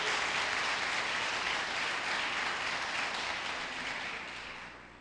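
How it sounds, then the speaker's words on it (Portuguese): A church congregation applauds Jesus with steady, dense clapping that holds strong before tapering slightly toward the end, with no voices over it. "Como se pode aplaudir Jesus por isso?"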